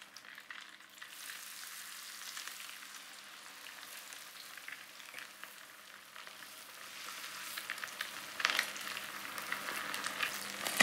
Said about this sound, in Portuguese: Ele não vai fritar mais do que 15, 20 segundos em cada lado